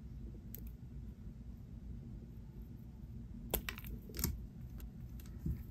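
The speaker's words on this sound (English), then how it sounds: "And now let me cut off the excess." Wire cutters snipping off excess wire while making a dainty daisy necklace, a few sharp, tiny clicks heard close and faint over a quiet room.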